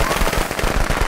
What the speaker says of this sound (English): I'm just spending my firecrackers.